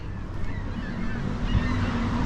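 Birds call out during a solar eclipse along a Montreal street, honking, goose-like cries rising at moderate distance over a steady outdoor background hum, with no talking.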